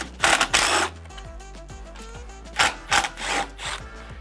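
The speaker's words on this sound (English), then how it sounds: "First step is to remove these screws." Screws being backed out of an OEM lock cylinder with a power driver, several short whirring bursts separated by pauses, close up with no talk.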